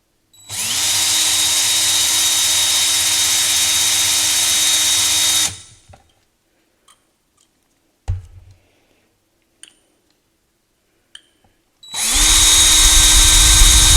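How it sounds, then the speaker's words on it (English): A power drill spins the flint tube of a vintage Ronson Adonis automatic petrol lighter, running loud and steady for about five seconds, stopping amid a few small clicks and knocks, then whirring up again at the end. "spin that with the power drill and get it to knock out a little bit quicker"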